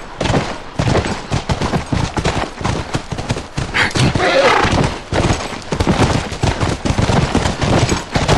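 A horse in the game The Last of Us Part II, heard amid dense, continuous game action with hoofbeats, gunfire bursts and talk, the neigh blended into the busy, loud mix rather than standing alone.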